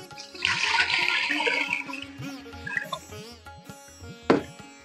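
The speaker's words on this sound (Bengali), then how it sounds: "এখন রাইস কুকারের মধ্যে দিয়ে দেব পানি।" Water gushes into a rice cooker pot in a full, rushing pour that tapers off, ending with a single sharp knock nearby.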